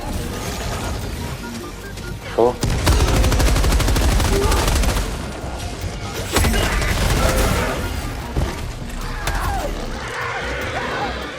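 Gunfire in the video game Helldivers 2: loud sustained machine-gun bursts, near and rapid, broken by sharp impacts and mechanical clatter, with shorter volleys later against a busy game soundscape.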